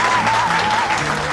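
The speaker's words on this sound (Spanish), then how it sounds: "Fuerte el aplauso." A studio audience on a political comedy show applauds loudly for a few seconds as a senator guest arrives, a dense, steady burst of clapping mixed with a held musical tone.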